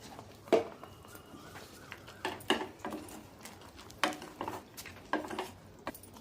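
Semai vermicelli and dry fruits are stirred in a metal pot, giving irregular clinks and scrapes of a utensil against the pot, close and fairly quiet, with short pauses between strokes.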